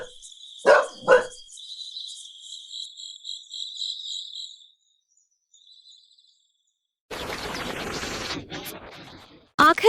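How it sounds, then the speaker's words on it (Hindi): Cartoon dog barking at night in a 2D animation: two sharp, loud barks near the start over a steady chorus of chirping crickets, which fades before a burst of louder noise at the end. "इस कुत्ते को भी अभी ही भौंकना था, कहीं कोई जाग ना जाए।"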